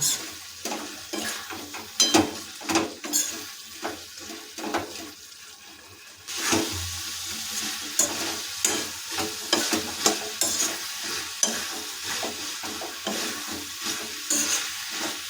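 Potato, beans, eggplant and peas being stirred and fried in a pan, with repeated scraping stirs over a steady sizzle, close and fairly loud, with a brief quieter gap midway.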